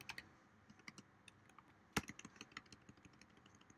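Rapid, light clicking of keys on a computer keyboard during a coding session, quiet and close, with an irregular rhythm of keystrokes and one sharper strike midway.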